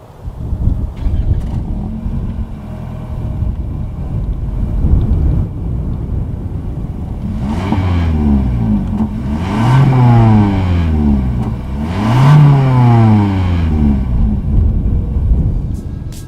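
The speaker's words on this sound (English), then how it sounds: "As always, here is that exhaust clip." Exhaust of a 2019 Lexus UX 200 with a single outlet, heard close and loud: a steady idle rumble, then two or three rising revs that climb and fall back, with no talk.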